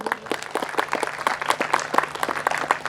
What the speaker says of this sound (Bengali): তো আমি মিস্টার মুখার্জির জন্য সবার কাছ থেকে একটা হাততালি চাইব।